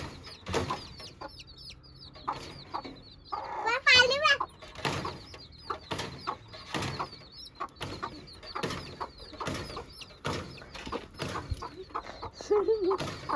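Hens and chicks squawk and cluck in sharp bursts while people scramble to catch them at home, wings flapping amid excited overlapping voices.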